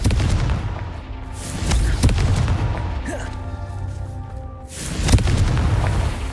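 A Confringo explosive spell in Hogwarts Legacy sets off booming blasts with sharp cracks, a heavy rumble carrying through and a second strong burst near the end, with a voice briefly heard.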